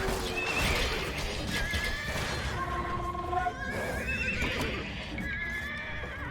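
Horses in the Age of Empires II video game neighing and whinnying repeatedly over a dense bed of clip-clopping hooves and battle noise, the calls loud and overlapping.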